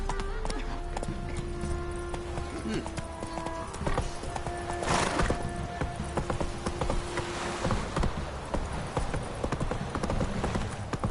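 Roach the horse trots along in The Witcher 3, hooves clip-clopping in a steady close rhythm over ambient game sound, with a brief whinny-like tone and faint talk in the background.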